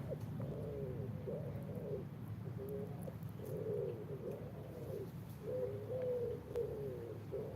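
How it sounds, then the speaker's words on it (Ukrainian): Soft, repeated cooing of a pigeon or dove in a steady rhythmic pattern, somewhat distant, over a low background hum, heard overhead during an evening walk in Ternopil. "То тобто пташки зверху."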